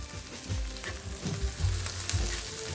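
Chorizo fries in a pan with a soft, steady sizzle and crackle, punctuated by a few low scraping stirs, quiet and close with no voices.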